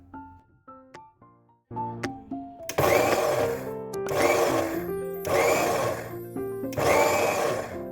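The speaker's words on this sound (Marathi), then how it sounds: "तिळाला आपण आता एकदा मिक्सरमधून फिरवून घेणार आहोत" An electric mixer grinder grinds sesame seeds in short bursts; after a few brief starts, the motor runs loud and steady in repeated pulses with short pauses between them, and no one speaks.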